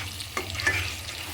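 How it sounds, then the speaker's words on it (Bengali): Ground turmeric, cumin, Kashmiri chili powder and salt sizzling in a hot pan while being stirred, with a couple of sharp scraping strokes over a steady frying hiss. "তারপরে দেখো এইভাবে ভেজে নেব"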